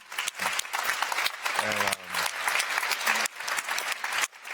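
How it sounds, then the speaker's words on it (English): Applause from an audience at the T-Challenge global pitching competition, moderate clapping in uneven bursts with speech-like sounds or voices mixed in throughout. "I think they deserve a round of applause."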